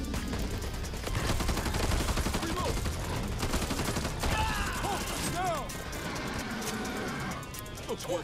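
Gunfire in the zombie co-op shooter Back 4 Blood, a dense stream of rapid shots and bursts running throughout, with game effects and players talking over the top.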